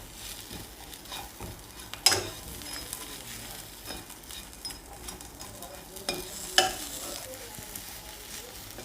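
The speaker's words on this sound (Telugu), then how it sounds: "ఈ విధంగా ఒక 2 నుంచి 3 నిమిషాలు వేయించుకున్న తర్వాత స్టవ్ ఆఫ్ చేసుకొని" Fish frying in a pan on a home stove gives a steady soft sizzle, with two sharper spatters and stirring clatters standing out along the way.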